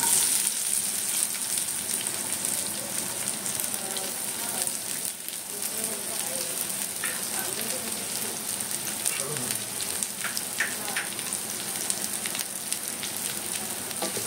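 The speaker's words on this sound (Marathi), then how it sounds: "कांदा घालून घेऊया आणि कांदा परतून घेऊया" Onion fries in a pan with a continuous soft sizzle and crackle, fairly quiet and even throughout, with faint scattered stirring clicks.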